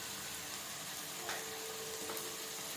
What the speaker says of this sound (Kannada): ಈಗ ಇದನ್ನು ಸಣ್ಣೂರಲ್ಲಿ ಇಟ್ಕೊಂಡು ಫ್ರೈ ಮಾಡೋಣ